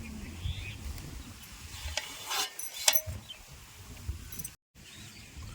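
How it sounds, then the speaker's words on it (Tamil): Crumbled bread stirred in a pan with a spoon, giving soft scraping and faint sizzling with a few sharper clinks, quiet and close. "உடச்சி வச்ச பிரெட்டை நல்லா நம்ம போட்டு கிண்டிக்கலாம்."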